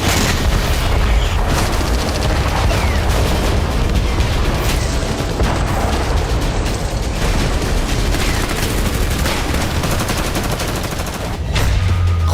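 A multiple rocket launcher fires a salvo of rockets, giving a loud, dense stream of roaring blasts and cracking booms that runs without a break.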